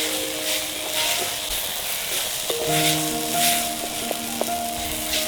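Tomato and chili masala sizzling steadily in a pan with soft scraping stirs, while faint music tones run underneath.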